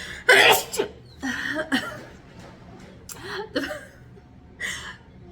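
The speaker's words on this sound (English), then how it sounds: "it's because I just did a crazy looking sneeze" A sharp, loud sneeze bursts out at the start, followed by a few quieter breathy sounds and soft vocal noises close to the mic.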